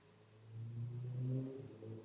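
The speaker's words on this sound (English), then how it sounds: "I mean, that's a motorbike, I think, actually." Motorbike with a loud exhaust passing outside, a low droning rumble that swells over about a second and a half, then eases slightly as it goes by, heard from indoors at moderate distance.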